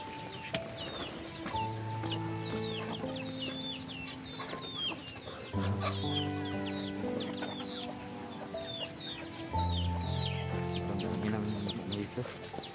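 Many chickens clucking nearby in a rural yard, overlapping calls with several sustained harmonic crowing-like tones, steady and fairly loud throughout with no talk.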